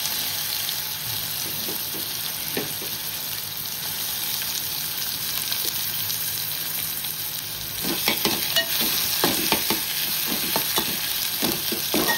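Onion frying in a pan with garlic, coriander and chilli paste, a steady sizzle that grows louder and denser toward the end, with scattered clinks and scrapes of stirring and no talking.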